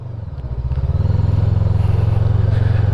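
A VOGE 500DS adventure motorcycle's engine runs steadily and up close while riding, a deep throbbing drone that builds over the first second and then holds a strong, even pulse with no talk.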